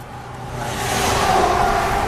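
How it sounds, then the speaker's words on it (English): A big truck passes on a highway beside someone walking, a rising roar and rush of air that swells and holds near the end. "Big truck."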